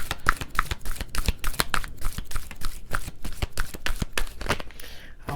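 A deck of energy oracle cards is shuffled close up, with rapid, repeated riffling flaps and snaps in a quick rhythm that slows and fades near the end.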